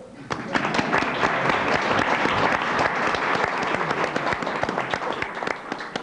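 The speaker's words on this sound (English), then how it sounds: "let's have a big, warm round of applause for our host, Gary Moore" A game show studio audience applauds as host Gary Moore is introduced on To Tell the Truth, dense steady clapping from a large crowd that holds loud and even throughout.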